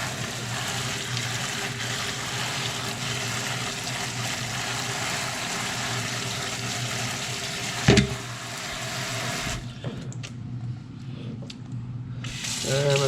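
Water runs steadily as a Traxxas RC car bearing is rinsed clean, a continuous close splashing hiss that breaks off near the end into quieter handling noises.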